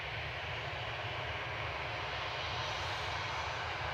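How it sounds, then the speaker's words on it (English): An Aer Lingus Airbus A320 departs Manchester Airport, its jet engines producing a steady, heavy roar with deep rumble and airy hiss throughout. "EI Depp, A320 Classic departing"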